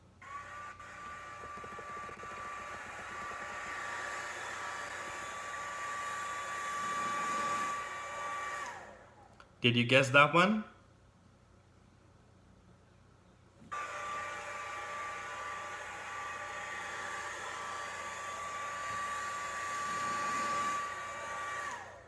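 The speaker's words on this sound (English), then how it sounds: "That was a blow dryer or a hair dryer." A hair dryer blows with a steady, loud whooshing hum, then cuts out, and after a short pause it runs again. Someone speaks briefly during the quiet gap.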